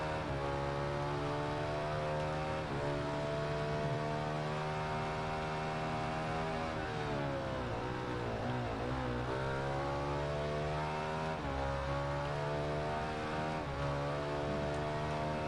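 Triumph motorcycle engine racing in the video game Ride 2, a steady loud droning whine with harmonics that rise and fall as the revs shift through gears, continuous and without voices.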